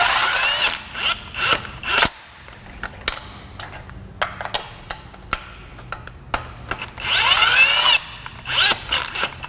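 A power impact gun works on a Honda Civic D-series engine, with short sharp bursts of whirring and rattling broken by pauses and clicks, close and loud, with a longer run near the end.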